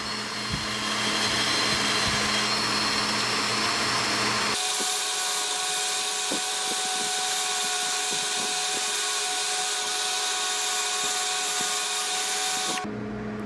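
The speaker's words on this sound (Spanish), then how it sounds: "el taladro con esta escobilla" A drill spinning a wire brush whirs continuously, close and loud, while scrubbing rust and corrosion from inside a water pump treated with vinegar and baking soda. Its tone shifts partway through, then it stops abruptly.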